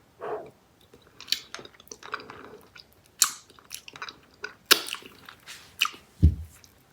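Close, crisp crunching and biting on a hard Charms Valentine lollipop, vanilla cupcake flavor, in irregular bursts of crackly chews with soft mouth sounds between them.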